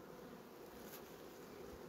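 Honey bees buzz on the frames of an opened hive, a faint, continuous droning hum with no pauses and no voices.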